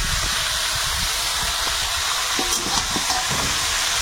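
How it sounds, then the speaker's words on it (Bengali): Marinated chicken sizzles loudly in a pan with onions fried until red, a steady dense hiss broken by stirring scrapes and spatters, without talk, for lemon chicken on a new clay stove. "পেঁয়াজটা লাল লাল ভাজা হয়েছে, এবারে ম্যারিনেট করা চিকেন।"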